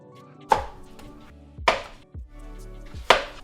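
A knife cutting through onion on a board into thin strands, three distinct chopping thuds spaced about a second apart, close and crisp with quiet between strokes.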